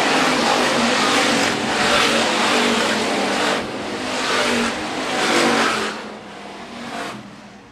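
Hobby stock race cars battle side by side at Phillips County Raceway, their engines roaring and revving loudly and continuously as they pass, with surging rises and dips before the noise drops away near the end.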